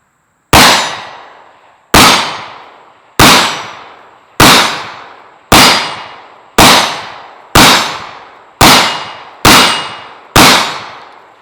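A Rock Island 1911 pistol fires ten 22TCM 40-grain soft point rounds at steel targets 12 yards away, each sharp, loud crack spaced about a second apart with a short ringing decay, shots evenly paced and alone.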